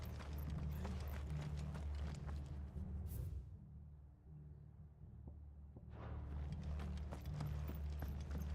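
Steady clip-clop of horse hooves in the video game Final Fantasy 16 with a rumbling, mechanical background, dropping quieter midway before the hoofbeats and clatter return at full strength.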